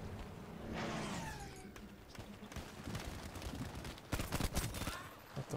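Gunfire in the Battlefield V video game, bursts of rapid shots that grow denser and louder toward the end, mixed with engine-like rumble and other battle noise.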